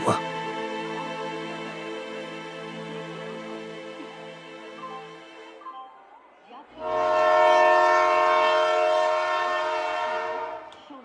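A train horn sounds loudly and steadily near a platform, then falls away and returns even louder and fuller as the train arrives at the station, with rail rumble beneath.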